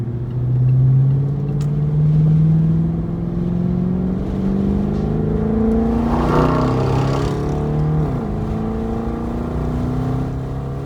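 A car with an old exhaust accelerating onto an on-ramp: a loud, steady engine drone that climbs in pitch through the gears, with a brief shift near the end and no talking.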